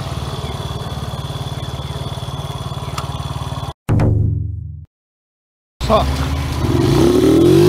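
A motorcycle engine runs steadily on a hot-weather tour, then cuts out briefly before roaring back up with revving; a voice speaks briefly.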